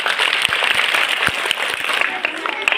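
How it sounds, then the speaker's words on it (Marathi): Audience applause for prize-winning students at a birthday function for Union Social Justice Minister Ramdas Athawale, a dense steady patter of many hands with a few sharper claps standing out, sustained and fairly loud throughout. "एकदा जोरात त्यांच्यासाठी टाळ्या वाजवा"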